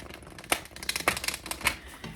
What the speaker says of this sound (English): I'm going to shuffle a lot, and then I'm going to just pull 3 cards off the top for each pile